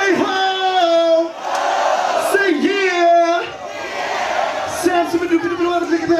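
At a live hip-hop show, the performer's sustained calls alternate with the crowd shouting back "ho" in loud bursts, several exchanges in a row with amplified voice and cheering.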